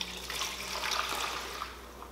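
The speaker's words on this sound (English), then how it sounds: "I just pour it over the chicken" Liquid poured over chicken in an Instant Pot, a soft continuous splashing trickle lasting a couple of seconds, fairly quiet and close, with no talk.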